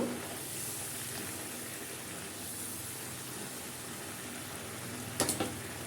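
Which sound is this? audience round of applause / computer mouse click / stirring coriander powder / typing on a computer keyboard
stirring coriander powder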